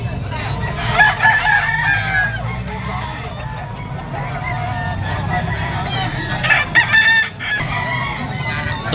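A young gamefowl stag crows loudly at a busy outdoor pet market, its drawn-out crow rising twice over other clucking birds and a faint murmur of voices.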